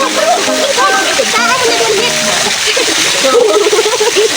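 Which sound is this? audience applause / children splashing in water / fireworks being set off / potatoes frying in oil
children splashing in water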